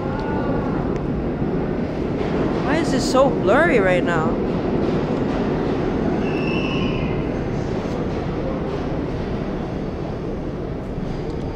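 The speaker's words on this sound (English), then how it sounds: "And there we got an R32 C train." An R32 C subway train rumbles past on the New York subway, a loud steady roar with wheel squeals and screeches, while someone talks over the noise.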